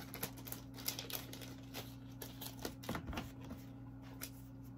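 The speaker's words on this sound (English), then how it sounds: "I put the cards in another penny sleeve" Trading cards slid into a plastic penny sleeve while packing for shipping, giving soft, quiet crinkling and shuffling rustles in short bursts over a low steady hum, no talking.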